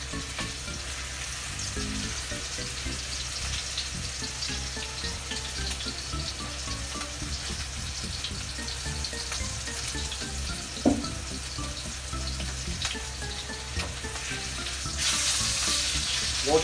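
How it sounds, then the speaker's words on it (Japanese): A steak sears in a hot frying pan with a dense, continuous sizzle and crackle, close and steady throughout, with a brief clank near the end and no talking. "表面はしっかり焼いていきます。"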